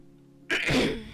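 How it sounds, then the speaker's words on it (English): A single sharp, explosive cough bursts out after a quiet moment, loud and close, then trails off. "Sorry, I have a little bit of a cough there."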